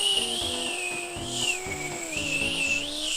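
A person whistles a wavering, thin tone held almost continuously, rising and dipping in pitch, close and moderately loud over faint background game music.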